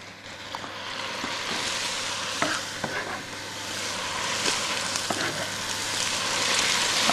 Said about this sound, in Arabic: بتقلية البصل